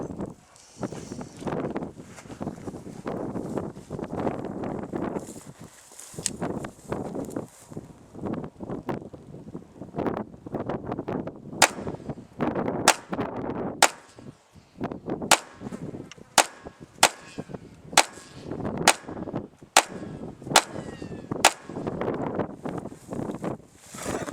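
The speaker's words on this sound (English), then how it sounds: "I will shoot some more." A GSG 1911 .22 pistol fired at an outdoor range, a string of a dozen or so sharp, close cracks at irregular intervals, more rapid toward the end, over wind noise on the microphone.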